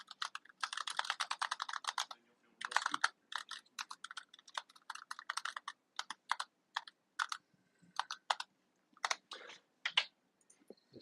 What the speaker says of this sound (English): I had to concentrate while typing my password